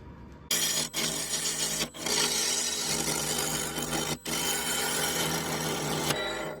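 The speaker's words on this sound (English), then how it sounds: "I'm going to start by turning the outside, just getting it round" A segmented wooden bowl spins on a lathe while a bowl gouge cuts its outside round, producing a steady, rough scraping hiss broken by a few brief pauses as the tool lifts away.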